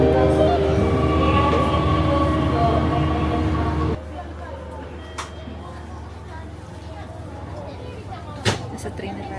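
Interior of a train in Japan, a loud steady rumble and hum of the carriage that drops to a quieter rolling drone partway through, with a couple of sharp clanks and people talking under the noise.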